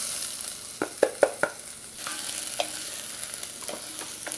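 Chopped onion and garlic cook in a pan for pumpkin risotto, giving a soft sizzle with a cluster of sharp spoon-against-pan knocks and a few later stirring clicks.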